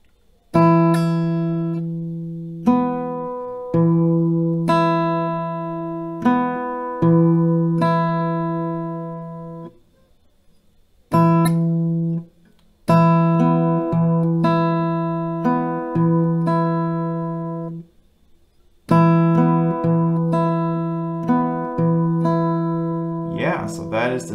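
Acoustic guitar plays the C part of a song slowly and clearly, ringing picked notes in repeated phrases separated by brief pauses.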